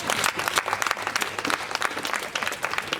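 Audience at a live stage show breaks into dense, sustained applause, many hands clapping at once in a bright, even roar from a moderate distance.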